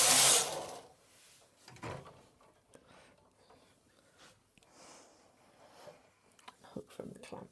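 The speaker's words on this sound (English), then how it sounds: "run the carriage across and it will fall off" A knitting machine carriage is pushed across the needle bed to drop off a yarn tension swatch, giving a loud, close rushing slide at the start, followed by quieter clicks and handling noises.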